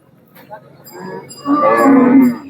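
At a cattle market, a loud, drawn-out bull moo rises and holds before fading, preceded by quieter lowing, with no talking.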